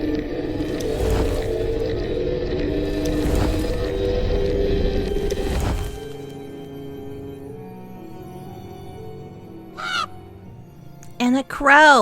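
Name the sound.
crow cawing in the game Save the Villainess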